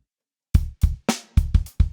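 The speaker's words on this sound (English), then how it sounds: "if we play it with no feel at all, just try to be as robotic and gridded" Six drum kit hits in a stiff, evenly spaced, unaccented pattern: deep kick thumps alternating with a sharper snare crack, close and dry, no voices.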